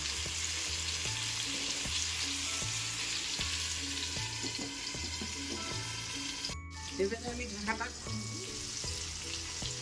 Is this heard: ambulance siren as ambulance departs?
no